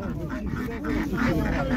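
Ducks quacking at a busy poultry market, with repeated nasal calls overlapping continuous nearby speech and crowd noise.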